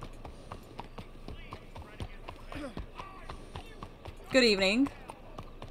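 Horse hooves clip-clop at a steady walking rhythm in the video game Red Dead Online, moderately close, while voices talk over the hoofbeats.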